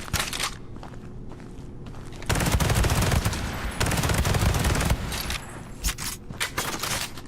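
Carbine rifle fire in a video game crackles in rapid automatic bursts, loud and dense through the middle of the clip, with scattered sharper shots and rattles around it.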